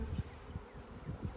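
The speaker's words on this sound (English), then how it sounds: "lots of bees flying" Honeybees buzz steadily around backyard hives during spring colony splits, a dense continuous hum of many insects flying close by with soft wind noise underneath.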